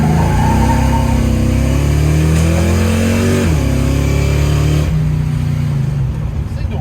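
A Dodge Dart car engine drives around the block, droning loud and close as it pulls through gears with rising and dropping revs, a shift audible midway and the pitch falling near the end, a voice talking faintly beneath.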